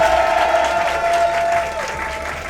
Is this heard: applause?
yes